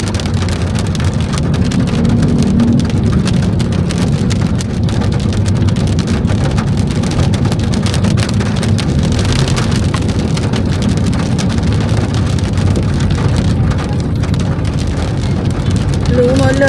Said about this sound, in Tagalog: Dahil sa patak ng ulan.